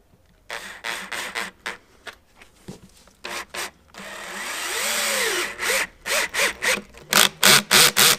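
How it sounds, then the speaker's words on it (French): Drill boring a pilot hole and driving a screw into a wooden crosspiece: a run of short close bursts, then one longer sustained whir with pitch swooping, followed by more quick pulsing trigger bursts. "je pré-perce le deuxième trou et je le visse"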